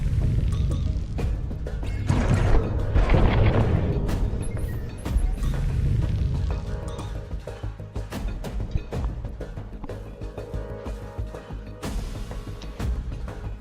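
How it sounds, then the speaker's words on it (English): Flak barrage explosions in a space battle video game, a dense run of booms and thuds layered over a steady game soundtrack, loud and continuous with no voices. "About to be hit by the flak barrage."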